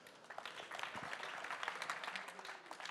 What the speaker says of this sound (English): Round of applause, please, to Mike.